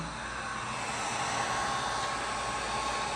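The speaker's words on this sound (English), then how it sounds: "This is a heat gun. It's blowing hot air." A heat gun blows hot air while flattening bent wallpaper edges, a steady, loud, close whooshing roar that holds level for the whole stretch with no talking.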